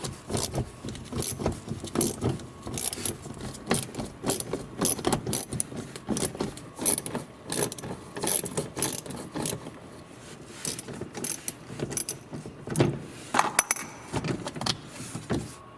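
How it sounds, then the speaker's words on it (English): Quick metallic clicking and rattling from a 10mm socket working the screws of the underbody plastic cover on a 2019-2025 Toyota RAV4 Hybrid, repeated in choppy bursts at close range with no voices. "It's been held by 4 screws and we used the 10mm socket."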